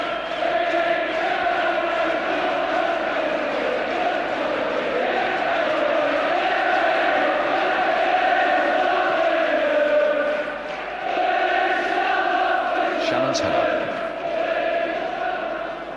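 Manchester United supporters at the 1976 FA Cup Final against Southampton keep up a loud, continuous roar across the football stadium, a dense wash of crowd noise with a brief dip near the end.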